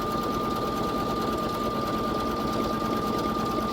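A Baby Lock Flare embroidery machine stitches steadily in a continuous, even whir with a fine high whine, close and alone.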